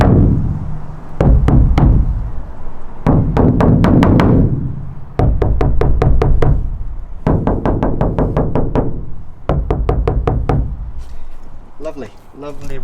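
Knuckles rap in quick bursts of sharp, dull thuds on a sound-deadened side panel of a VW Crafter van during a camper conversion, several rounds of close knocking separated by short pauses, with a brief voice near the end.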